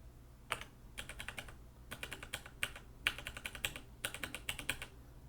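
A computer keyboard being typed on in quick bursts as a credit card number is entered for an online restaurant payment, clear clustered keystrokes separated by short pauses, close and alone over a low steady hum.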